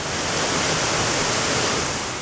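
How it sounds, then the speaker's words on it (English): A waterfall roars nearby, loud, dense and unbroken, with no voices over it. "It's been suggested that we check out this waterfall, which is where we are at the moment."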